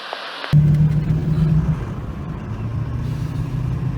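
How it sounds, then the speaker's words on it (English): A heavy Duramax truck rumbles and churns loudly through deep floodwater, with a surge of splashing and a low engine drone that fades slightly as it passes. "Truck just about went underwater there."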